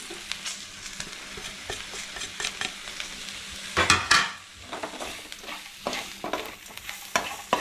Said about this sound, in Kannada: ಈ ಪೌಡ್ರಲ್ಲಿರೋ ಇದೆಲ್ಲ ಚೆನ್ನಾಗಿ ಫ್ರೈ ಆಗಲಿ.